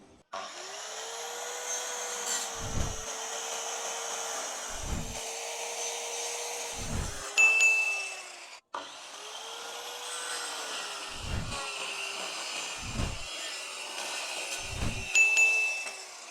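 A 7-inch circular saw fitted with a wood-cutting blade runs with a steady whining hum and cuts repeatedly through wood in several short, regular passes, with no talking.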